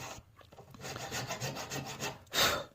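A file rasps back and forth in the nut slot of an acoustic guitar, enlarging the groove in steady rubbing strokes, close and fairly quiet, with a louder scrape near the end and no talk.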